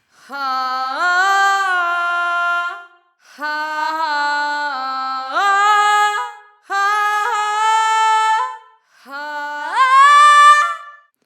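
Four separate sung choral phrases, each swelling and then stopping abruptly with no echo or lingering tail, leaving short silences between them.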